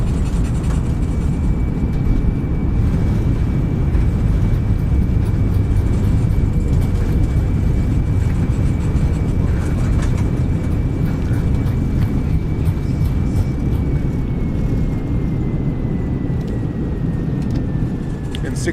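Airbus A320 (A32NX) airliner in Microsoft Flight Simulator under reverse thrust after touchdown: a steady, loud broadband engine roar dominates throughout, with a faint whine gliding slowly downward near the end as the aircraft decelerates.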